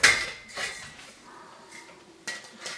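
A metal 6-to-8-inch wood stove pipe converter adapter is fitted in place, giving a few sharp metallic clanks and scrapes at the start and end, with quieter rattling between.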